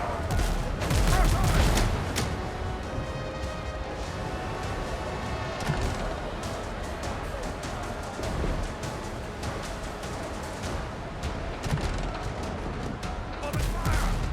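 Ship cannons in the pirate game Windrose boom in a dense, overlapping barrage of loud, close blasts that keep rolling without pause, with voices talking over the gunfire.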